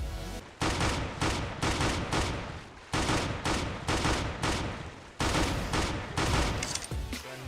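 Dual Elites pistols fire in CSGO in quick, loud rhythmic volleys of repeated shots, with short pauses between the groups and the gunfire sounding close and alone.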